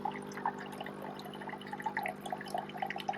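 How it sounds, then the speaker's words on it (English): A Ninja Luxe Cafe coffee machine runs its rinse cycle, pushing plain water through with a steady stream splashing and dripping into a cup, faint and continuous with small bubbling spurts. "we'll just press rinse. And that should just send a good amount of just water through the machine, no coffee, just to clean the inside out"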